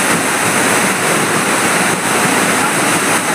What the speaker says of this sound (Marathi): एवढं पाणी पडायला बघा असा आमचा धबधबा असतो